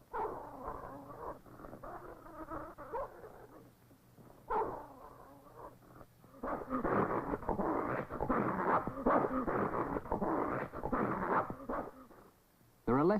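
Eskimo sled dogs fighting over scarce food, heard as a close, loud jumble of growls, snarls and whimpers that comes in bursts and grows more intense in the second half.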